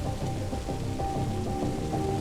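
Rain in the video game Phantom Doctrine, a steady dense hiss of falling rain with soft patter, continuous and moderately loud with no voices.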